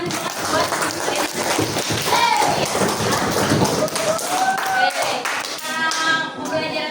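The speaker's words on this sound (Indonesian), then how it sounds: "Coba sekarang kasih tepuk tangan buat kalian." Primary schoolchildren in a classroom clap for their classmates, giving loud, uneven bursts of hand claps mixed with excited chatter and shrill children's voices.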